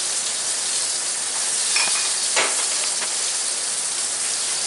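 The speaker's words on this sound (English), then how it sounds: "Make sure you can hear them sizzling nice." Steady broadband sizzling of chicken searing in olive oil, a continuous hiss with a brief louder crackle midway, no voices.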